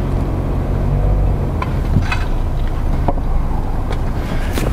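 A 2019 Mazda3 AWD with a six-speed automatic creeping super slowly onto test rollers, a loud steady low engine and drivetrain rumble with faint clunks, close and continuous.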